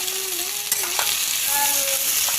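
Bamboo shoots fry and get stirred in a pan, with a steady close sizzle and a few sharp utensil scrapes and clicks, with no voices.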